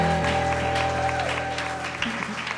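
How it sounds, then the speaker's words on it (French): A church congregation claps together in praise at a worship service, a dense, steady wash of applause with a sustained organ or keyboard chord underneath that drops away near the end. "Acclame pour le Seigneur."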